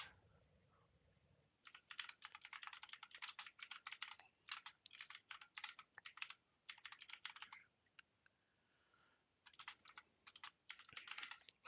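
Keys clatter on a computer keyboard in quick, faint bursts of typing separated by brief pauses, close and with no talking.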